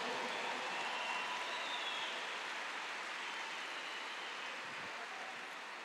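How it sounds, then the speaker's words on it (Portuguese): A church congregation applauding: a dense, steady wash of clapping from many hands fills the room without pause, evenly loud throughout and with no voices standing out. "dá um aplauso a Ele."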